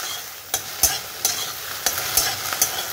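Okra frying in a hot wok gives a steady sizzle, with a spatula scraping and stirring at a regular rhythm, about six sharp strokes over three seconds, close and fairly loud.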